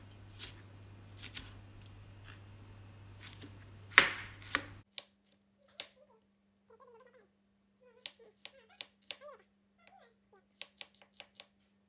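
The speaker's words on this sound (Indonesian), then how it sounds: "Di sini saya menggunakan pisau dan talenan dari Stand Cookware." Knife chopping on a Stand Cookware cutting board, sharp isolated taps spaced unevenly, close and fairly quiet, after a louder stretch of mixed handling noise.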